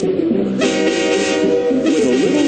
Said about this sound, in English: Blow the locomotive's whistle to scare the deer off the track.